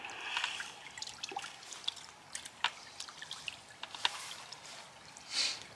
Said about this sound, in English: Gentle stream, all by yourself in the woods, sound of the river